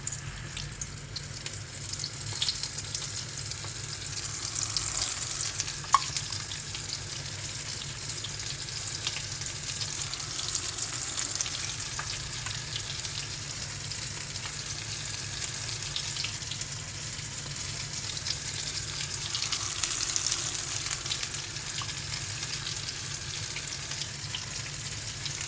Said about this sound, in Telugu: ఒక్కొక్క ప్రాన్స్ తీసుకొని ఆయిల్లో డిప్ చేస్తూ